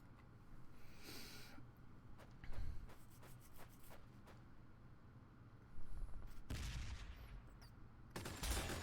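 Sustained suppressing gunfire in the tabletop-inspired strategy game Warhammer 40,000: Sanctus Reach, with bursts of rapid shots and heavier blasts rolling over a steady battlefield din, no voices present.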